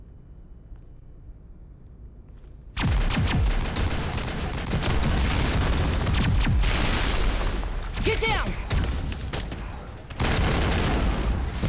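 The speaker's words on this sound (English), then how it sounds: "Gunfire and more explosions." Sustained bursts of gunfire and heavy explosions in the Mass Effect video game erupt abruptly after a quiet opening, loud and dense with a brief gap, as a voice shouts over the combat.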